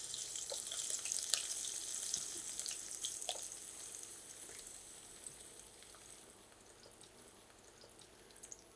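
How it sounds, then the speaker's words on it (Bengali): Onions frying in about two spoons of oil in a wok give a steady, faint, close sizzle with small crackles, slowly easing off over several seconds and heard alone without talking. "কড়াইতে কিছুটা তেল দিয়েছি, 2 চামচের মতন হবে। আর এখন এখানে পেঁয়াজ দিয়ে দিচ্ছি।"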